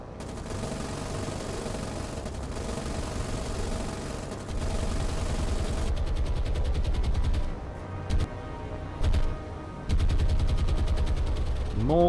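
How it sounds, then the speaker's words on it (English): In the War on the Sea naval video game, aircraft strafe a troop ship with machine guns: dense rapid bursts of gunfire rattle over a rumbling engine drone, with a few brief pauses between loud volleys. "And they're strafing, by the looks of it"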